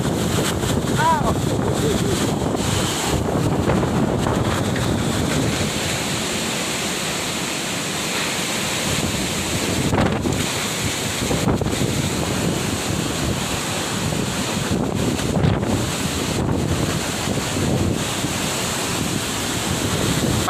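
Very strong typhoon wind roaring continuously into the microphone outdoors, a loud, dense rush with gusty swells that never lets up, mixed with a surf-like wash.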